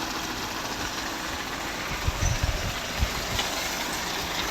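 A 40-horsepower electric tubewell motor with a belt drive, pumping groundwater in rural Punjab, Pakistan, gives a steady, loud mechanical drone with low rumbling and a few irregular knocks.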